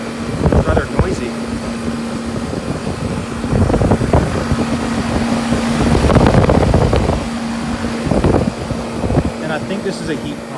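A 2005 Goodman 4-ton (49k BTU) central air-conditioner heat pump runs outdoors with a steady, fairly loud mechanical hum and fan drone throughout, while a voice talks intermittently over it.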